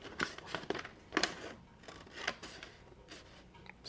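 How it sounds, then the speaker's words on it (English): Scissors snip along the center line of a folded paper micro-zine, giving soft, quiet crisp cuts and rustling paper at irregular intervals, with no talking. "take your scissors and feed them in"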